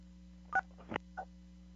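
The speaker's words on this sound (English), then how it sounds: "You can hit *6 to mute your phone." Telephone keypad tones from pressing star-six to mute a phone on a basketball coaches' webinar call: three short, faint beeps, with the first the clearest, spaced about a third of a second apart over a steady low hum.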